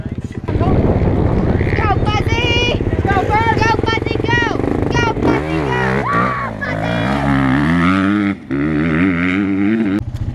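A voice imitates a dirt bike engine on a ski resort slope, with loud, wavering buzzing and revving tones that rise and fall continuously and close to the microphone.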